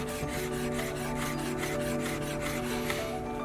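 A knife rocks and slides through chives on a cutting board, a quick regular run of rhythmic tapping and scraping strokes, close and fairly quiet, with no talking.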